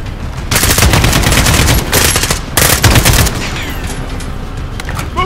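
Sustained machine gun fire in Call of Duty: Modern Warfare pounds loudly in dense bursts, easing to a quieter rattle in the final seconds, with no voices over it.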